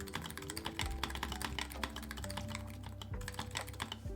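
Steady, rapid typing on an electrocapacitive keyboard, close up, with dense clicky keystrokes and a few heavier thocks; no voices.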